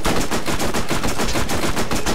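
Pistol fire in Borderlands: a rapid, loud, continuous burst of shots with no voices.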